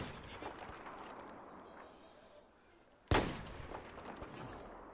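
Battlefield 4 gunfire: scattered distant shots under ambient game noise, then a sudden loud, sharp blast near the three-second mark with a ringing tail and quieter reports following.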